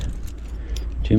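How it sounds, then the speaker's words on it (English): A large bunch of keys jangles in bright metallic clinks and rattles, nearby. A voice is heard briefly at the end. "Too many keys."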